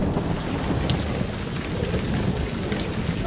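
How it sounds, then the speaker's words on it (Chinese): Steady rain shower pours down at a bridge construction site in Guizhou, a dense, even hiss of drops striking surfaces close by, unbroken across the whole stretch with no voices. "应该是阵雨，一下应该下不到好久，应该要停了。"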